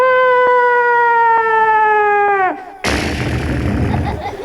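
A loud steady siren wail drops away, then a heavy bomb-like explosion bursts in with a long rumbling roar, played as a sound effect during a children's storytelling event.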